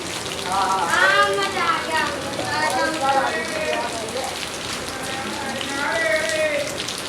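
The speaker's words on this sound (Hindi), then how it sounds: "अभी आ गई बारिश एकदम से" Sudden heavy rain pouring onto surfaces in an Indian street during Dussehra preparations, a loud continuous hiss and patter throughout, with voices talking over it.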